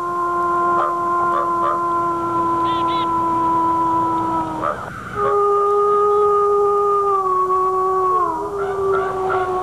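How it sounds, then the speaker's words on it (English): Several wolves howl together in long, sustained, overlapping tones that shift pitch and slide downward, loud and close, with brief yelping notes breaking in. "Howling is the way wolves communicate vocally, and it is a complex language."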